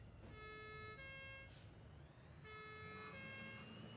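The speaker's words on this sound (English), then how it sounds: "Nice little siren." Faint two-tone siren from the video game Satisfactory, alternating between a high and a low pitch, repeating twice in quick succession with no talking.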